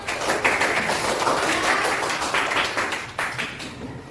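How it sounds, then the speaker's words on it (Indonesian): Classroom applause from a group of students, dense and continuous clapping at moderate volume that tapers off slightly toward the end. "Tepuk tangan untuk Mirza dan Rafa."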